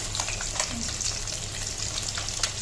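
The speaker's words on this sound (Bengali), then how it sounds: "মাছ ভাজাটা হচ্ছে" Fish frying in a pan in a home kitchen, a close, steady sizzle with faint bubbling and a few soft clicks, brief and without voices.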